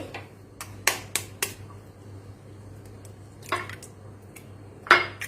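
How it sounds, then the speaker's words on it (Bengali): Two eggs are cracked against a bowl rim in several sharp taps and cracks, spaced irregularly, with a low steady hum in the background and no talking. "দুটো ডিমই এখানে ফাটিয়ে নেব"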